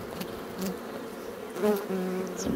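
Honeybees buzz close during a spring hive check, several droning hums rising and falling as individual bees pass near, over a soft background hiss.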